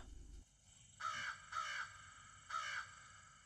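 A crow caws three times, clear and fairly close, with short pauses between calls against a quiet background.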